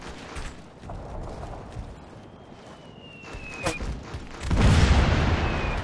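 Gunfire and booming blasts in the military shooter Operation Flashpoint Red River, mostly distant scattered shots that build to a heavier, louder burst near the end.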